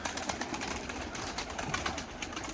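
Erzurum white breeding pigeons coo softly amid a dense, noisy loft background, with low murmuring calls and occasional rustles repeating throughout.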